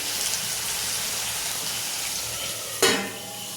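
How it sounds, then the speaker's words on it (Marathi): Potatoes steaming and sizzling in a pan, a steady soft frying hiss throughout, with a brief louder splash of sizzle near the end. "आता बटाटा 10 मिनिटं वाफू देऊ।"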